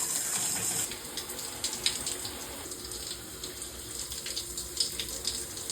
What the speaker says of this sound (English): I'm about to get in the shower right now.